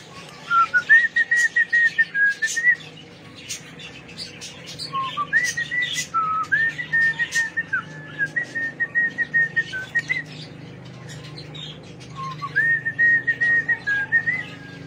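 A bird in an aviary gives clear, repeated whistled phrases in several bursts separated by short pauses, over a quiet background.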